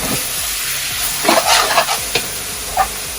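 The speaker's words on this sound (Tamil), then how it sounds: "now we have to drop mint and coriander" Mint and coriander fry for mutton biryani, a steady close sizzle broken by several light stirring scrapes of a spoon in the pan, with no voices.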